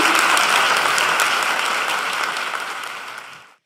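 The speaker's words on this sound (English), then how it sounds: "So let's give you a round of applause." Audience applause fills a conference hall at a youth-focused talk on the energy revolution, a dense, steady wash of clapping that stays loud throughout and cuts off abruptly at the end.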